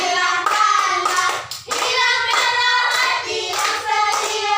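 Children clap their hands in a steady rhythm through a sung classroom song in a second-grade primary lesson, the claps close and loud over the singing, with a brief pause partway through.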